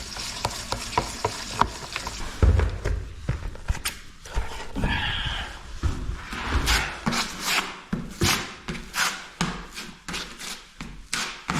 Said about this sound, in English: we're just going to use our little mixing spoon here like we're making some batter